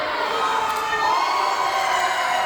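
Wrestling crowd at an indoor show cheering loudly, a sustained roar of many voices with high-pitched shouts and whistles.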